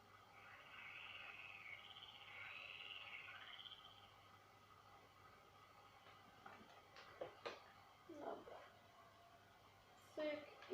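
Faint chorus of frogs trilling steadily in the distance, with a few brief nearer rustles and knocks toward the end.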